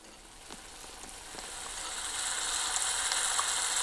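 A lemon and date pickle mixture with vinegar and turmeric bubbling in a pan gives a soft, steady sizzling hiss that grows gradually louder, with no talking.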